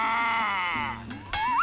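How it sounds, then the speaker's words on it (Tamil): A cow calls nearby with a single loud, drawn-out bellow, followed a moment later by a shorter rising cry. "பக்கத்திலேயே இன்னொரு மாடு கத்துற சத்தம்"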